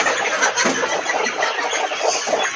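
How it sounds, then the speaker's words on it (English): A crowd of free-range local hens clucks inside a chicken coop. The overlapping cackles and squawks are close and loud, running on without a break. "So this is a new bunch of our hens"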